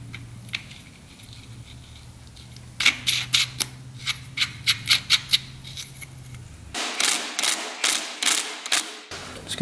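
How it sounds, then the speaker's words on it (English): A dirt bike impeller being screwed on by hand during an engine rebuild, giving bursts of small metallic clicks and ratcheting taps that come in quick clusters and grow more frequent toward the end, close up with no speech. "Impeller just screws on."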